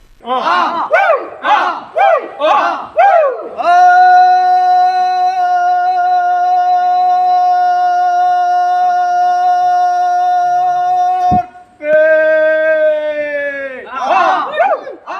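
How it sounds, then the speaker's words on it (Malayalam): A crowd at an Ayyappa temple raises the ritual arppuvili cry: rhythmic group shouts open it, then a long, loud sustained call holds for several seconds, breaks, resumes, and ends with more bursts of shouting. "തുടർന്ന് ക്ഷേത്രത്തിലെ അയ്യപ്പൻ്റെ നടയിൽ നിന്ന് ആർപ്പ് വിളിക്കും"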